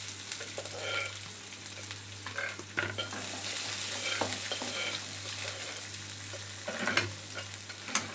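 Onions fry in hot oil with mustard seeds and curry leaves, giving a constant close sizzle with scattered spatula scrapes and a low steady hum from the stove underneath.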